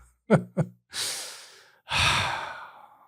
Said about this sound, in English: it starts for me with a deep breath